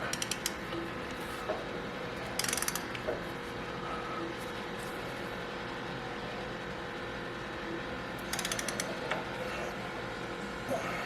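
Ratchet with a 12-point 13mm socket tightening unit bearing bolts on a 2021 Jeep Wrangler JLUR, two short bursts of clicking near 2.5 and 8.5 seconds over a steady mechanical background hum.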